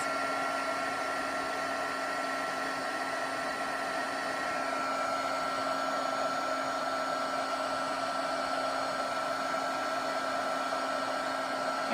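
A heat embossing tool blows steadily as it melts ultra thick embossing enamel (UTEE) on a gold-dipped craft piece, giving a continuous, even whirring hiss with a faint tonal hum that holds for the whole stretch and has no talk over it.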